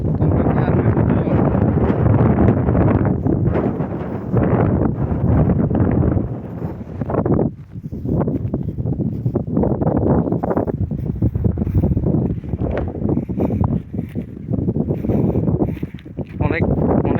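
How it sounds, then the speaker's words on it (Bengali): Strong desert wind buffets the microphone in loud, gusty roars that swell and dip, with a brief lull midway, while a voice talks over it. "অনেক অনেক হাওয়া এখানে, অনেক বাতাস দেখতে পাচ্ছেন।"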